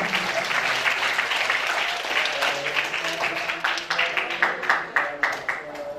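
Audience applause at an Indonesian motivational session, a full round of clapping that gradually thins into sparser, individual claps toward the end, with some crowd voices mixed underneath.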